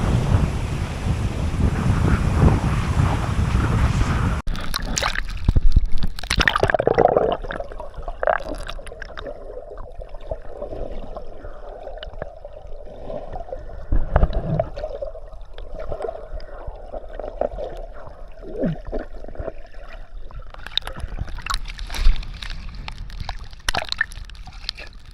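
Large waves break at a white-sand beach in Buntod, Mobo, Masbate, with wind buffeting the microphone at first, then intermittent surges of surf and splashes at moderate distance.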